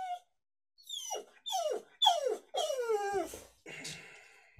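A dog whimpers and yips in a series of rising, whining cries, several close high-pitched whines in a row with short breaks between them, followed by a rougher noise at the end.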